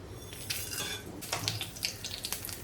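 Fenugreek seeds, whole red chilli, cloves, black pepper and a bay leaf hit hot mustard oil, giving a quiet sizzle broken by sharp clinks of a metal spoon against the pan as they are stirred.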